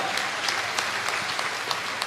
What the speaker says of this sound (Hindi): अरे ताली तो जोर से ठोको